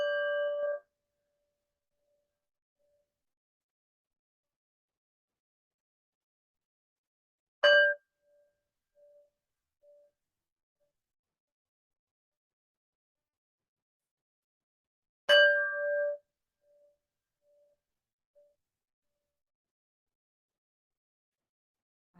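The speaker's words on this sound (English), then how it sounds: "I'll sound the gong 3 times and let's see what happens." A gong rings out three times at even spacing, each strike a bright, sharp metallic hit with a short, clear ringing tone that dies away quickly, leaving near-silence between strikes.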